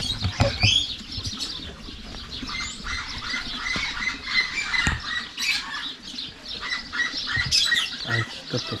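A zoo aviary full of birds, with dense overlapping chirps, squawks and twittering, some close and some farther off, plus occasional rustling and flapping.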